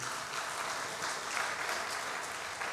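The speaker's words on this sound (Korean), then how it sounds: "박수 주세요." A church congregation claps steadily during a Sunday service, a dense even patter of many hands at moderate volume with no voices standing out.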